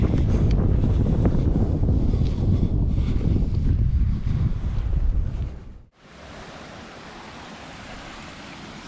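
Strong breeze gusts across the microphone on an outdoor hiking trail near a field, a loud steady rumble that cuts briefly to near silence before settling back into a softer, constant wind hiss.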